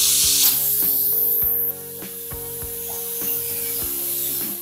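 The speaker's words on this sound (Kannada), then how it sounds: "ಈಗ ವಿಷಲ್ಲು ತೆಗೆದುಬಿಡ್ತೀವಿ" Steam hissing sharply from a pressure cooker of cooked lentils for khara pongal as its whistle is lifted off, a loud spray that eases into a softer sustained hiss alongside faint ringing kitchen tones.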